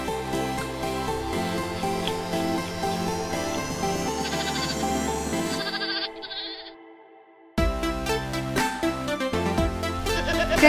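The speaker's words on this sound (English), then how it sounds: "Barbary sheep? They are somewhere between a sheep and a goat." Barbary sheep, an animal between sheep and goat, bleat in repeated calls mixed into a loud, continuous music bed, briefly dropping out before the sound returns strongly.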